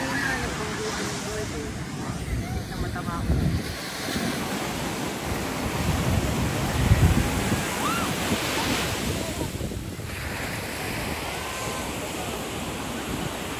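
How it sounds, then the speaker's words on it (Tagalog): Ocean waves surge and wash in continuously at La Union, with gusty wind buffeting the microphone and a few faint voices in the background. "Tumay alon, ito yung alon."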